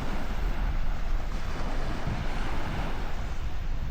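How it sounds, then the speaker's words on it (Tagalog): Ocean surf washing onto a New Zealand shore, a steady broadband roar of waves with wind buffeting the microphone, continuous and fairly loud with no talking. "Tunog pa lang ng hampas ng alon,"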